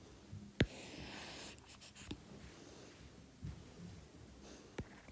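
A rough circle diagram sketched by hand on paper for a maths lesson, with faint scratchy pen or pencil strokes and a few sharp taps, quiet and close with no talking.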